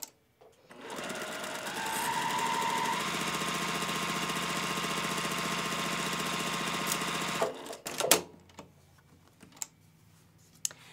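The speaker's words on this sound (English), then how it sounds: "So just put your fabrics right sides together and pin at the very bottom. And then just sew using a 1/4-inch seam." A sewing machine stitches a quarter-inch seam through quilt fabric pinned right sides together, running steadily at close range for about six seconds before stopping. Scattered handling clicks follow, with no speech.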